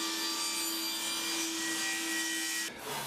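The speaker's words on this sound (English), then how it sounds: "My first cut is going to be long, and it's just going to be for a push stick." A table saw ripping through 6-inch wide poplar on a crosscut sled, a loud steady whine with a constant tonal hum that cuts off abruptly near the end, leaving quieter room noise.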